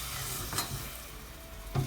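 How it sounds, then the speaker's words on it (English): Flour being stirred into hot butter in a pan off the heat for a chicken and mushroom pie, a low sizzle with two brief scraping strokes, close and quiet. "I'm going to stir it with the heat turned off."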